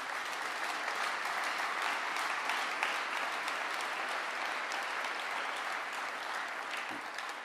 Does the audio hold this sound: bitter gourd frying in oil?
no